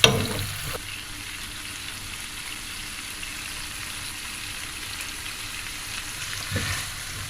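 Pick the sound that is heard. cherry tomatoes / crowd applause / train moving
cherry tomatoes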